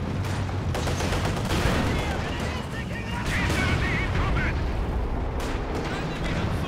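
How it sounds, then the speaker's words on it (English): Nebelwerfer rocket artillery barrage thunders in a Company of Heroes 2 match, a dense continuous roar of launches and blasts with overlapping booms, loud and sustained beneath a voice talking. "here come the double werfers again"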